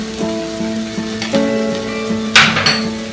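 Fish curry masala with turmeric sautéing in a pan for a katla fish dish, with a soft frying sizzle and several sharp clinks of a utensil against the pan over a steady hum.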